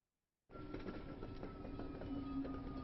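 A train in an animated film rolls along with a steady rumble and rhythmic clatter of wheels on rails, starting abruptly after a moment of silence and then holding a continuous hum.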